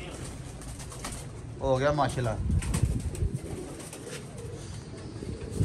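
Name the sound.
pigeons cooing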